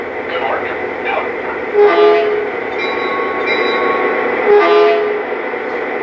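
Model F3/F7 diesel locomotive slowing to a stop, a steady low rumble with sustained horn-like tones sounding twice, heard under people talking.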